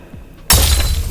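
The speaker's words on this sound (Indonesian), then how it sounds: "Bahkan pedang itu pecah karena tidak sanggup menahan tekanan energi." A sudden loud shattering crash of a sword breaking apart under pressure, a sharp metallic-glassy burst that lingers as bright debris noise after a quiet lead-in.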